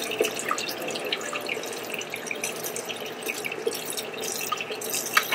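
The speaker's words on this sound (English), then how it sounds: "to drain all the liquid off of them." Liquid draining from a can of seasoned whole black beans, a steady close trickle with scattered drips and splashes running throughout without any talk.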